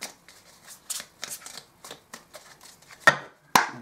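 Oracle cards shuffled by hand in short rapid bursts of papery flicks, close and clear, ending with two sharper slaps as cards are set down; no talking.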